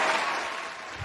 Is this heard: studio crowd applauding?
yes